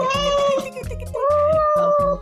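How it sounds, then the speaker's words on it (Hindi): A pet cat meows in drawn-out, tonal cries, two long wavering calls close by, with background music underneath. "कि तो बिल्ली मिल गई"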